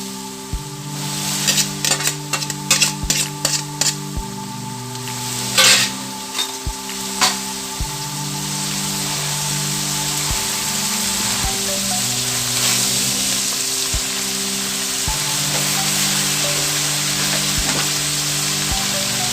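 Vegetables and noodles for lo mein stir-frying in a hot pan, a steady loud sizzle running throughout with brief clatters of stirring and tossing early on, no talking.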